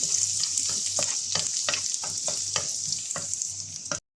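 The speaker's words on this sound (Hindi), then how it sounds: "लहसुन को हम कुछ सेकंड के लिए फ्राई करेंगे।" Chopped garlic sizzles in hot oil in a pan with a steady bright hiss, and a spoon stirs it in soft, repeated scrapes. The sound cuts off abruptly at the end.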